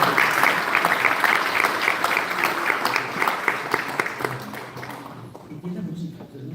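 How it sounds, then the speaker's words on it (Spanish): An audience applauds to welcome a speaker at a university architecture lecture series, with steady, full clapping that fades out near the end as voices begin talking. "Damos la bienvenida entonces a Iñaki ahora con un aplauso."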